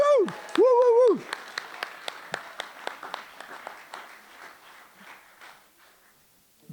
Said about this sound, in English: give an even louder round of applause, people